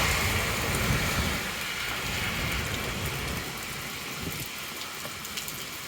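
Heavy rain pours steadily downtown, driven by strong wind gusts, while someone walks through it; a dense, continuous hiss and patter stays loud throughout, with wind rumble in the low end and no talking.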